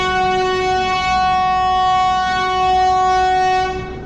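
Saraighat Express pulling into Sainthia station on its Howrah to Guwahati run, sounding a long, loud, steady horn blast that holds for about four seconds before trailing off.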